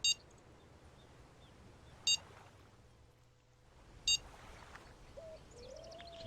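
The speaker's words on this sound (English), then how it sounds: "See the regularity of the alarm?" Bite alarm in the Fishing Planet game beeping at steady two-second intervals, three sharp high electronic beeps over a faint ambient background with soft bird-like chirps.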